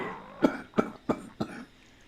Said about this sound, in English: Oh boy, this is not good right now with this coughing.